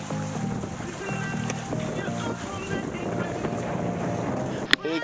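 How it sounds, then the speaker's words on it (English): Wind noise on a cruising sailboat in shifty wind, a steady rushing buffet against the microphone with low engine-like hum underneath, a sharp knock near the end, and someone talking over it. "a bit shifty wind here"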